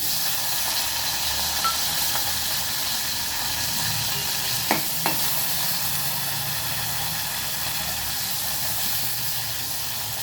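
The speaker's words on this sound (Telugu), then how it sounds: "ఇప్పుడు ఆయిల్ వేడిగానే ఉంది కదా, ఈ పచ్చిమిర్చిని వేసుకోవాలి" Green chilies sizzle and fry in hot oil for a tamarind-peel pickle, a steady dense crackling hiss throughout with a couple of brief sharper pops near the middle.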